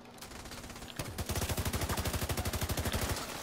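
Rapid automatic gunfire in a shooter video game, a loud steady burst of evenly spaced shots that starts abruptly and runs continuously with no talking over it.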